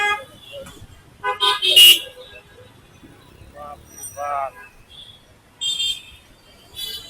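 Evening traffic crawls through a busy Gulshan street in Dhaka, with short bursts of car and bus horns honking near and far over a low engine rumble while someone talks between the toots.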